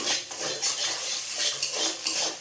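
Chilli powder, ground cumin, ground coriander and Maggi masala fry in oil for a spiced potato dish, with a spoon scraping and clinking against the pan in steady strokes over a continuous sizzle.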